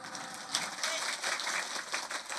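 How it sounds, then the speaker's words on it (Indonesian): An audience at a religious gathering claps, a dense distant wash of applause at moderate level, steady throughout with some voices mixed in. "Saya minta tepuk tangan dulu dong"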